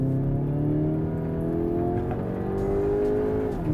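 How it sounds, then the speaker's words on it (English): A steady, throaty engine drone, synthesized through the speakers of a 2017 Kia Optima GT, hums at an even pitch, rising slightly in tone near the end, with no talk. "The sound itself doesn't come from the engine per se, but it's synthesized through the speakers."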